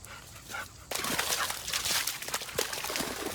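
Lola the dog whimpers and gives short yips and barks near water, the sounds coming in uneven bursts over a splashing, noisy outdoor background, fairly close.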